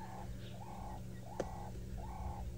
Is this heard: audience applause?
no